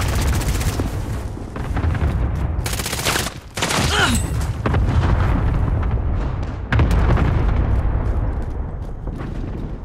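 Gunfire in the video game Call of Duty: Modern Warfare, dense continuous volleys of shots and booming blasts, loud and close throughout, with no clear speech.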